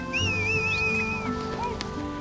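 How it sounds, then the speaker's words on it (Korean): Nomadic herders crossing a snowy Mongolian mountain pass with yaks: a person whistles a long, wavering tone, then a shorter rising whistle, outdoors over a low steady background with no talking. "가축의 대열이 흐트러지자 사람들은 연신 휘파람을 붑니다."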